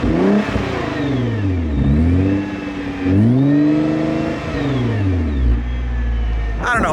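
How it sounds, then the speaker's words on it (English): Nissan GT-R engine revs up and falls back in several rising and falling sweeps, loud and close, with a prominent turbo whine and whoosh layered over the exhaust note. "I'm gonna rev it for you guys so you guys can actually hear"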